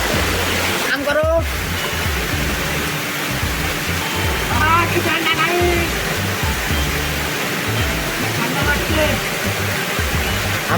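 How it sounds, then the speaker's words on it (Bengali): Mankadadin waterfall in Odisha, a picnic spot, gives a steady, loud rush of falling water that fills the scene while people talk nearby. "আমরা ঝর্ণায় এসেছি।"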